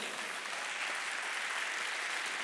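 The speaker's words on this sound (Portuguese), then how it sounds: "Você pode aplaudir Jesus?" A church congregation applauds in a steady, dense wash of clapping that holds at an even level throughout, heard from within the room and with no talk over it.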